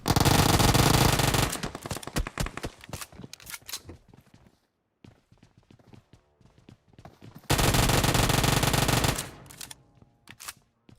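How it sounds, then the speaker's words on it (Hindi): UZI gunfire in a video game comes in two loud, sustained automatic bursts at the start and near the end, with scattered sharp single shots and clatter between them, close and dominant with no speech. "हमारे ये घर पे बैठे भाई ऊजी थोड़ा सा चला के भागने की कोशिश करते हैं"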